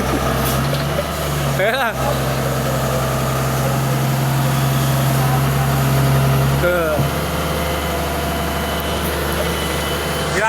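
A tractor engine runs steadily at a low, heavy idle throughout, working on a road repair site, with someone speaking briefly over it.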